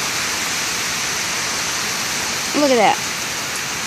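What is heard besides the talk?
heavy rain falling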